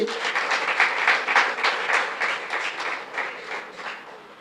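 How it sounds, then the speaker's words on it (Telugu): A congregation at a Christian gathering bursts into sustained applause, many hands clapping in a dense, steady burst that swells and then slowly tapers off, loud and close. "చప్పట్లు కొట్టండి"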